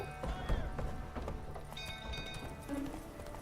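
A horse gallops in a fantasy role-playing game, hoofbeats quick and fairly faint beneath game ambience and music.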